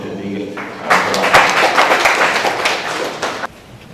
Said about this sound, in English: we should give them a big applause